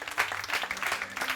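A church congregation at a French-language Sunday praise and worship service breaks into applause, a dense crackle of clapping that swells briefly and keeps going without a pause.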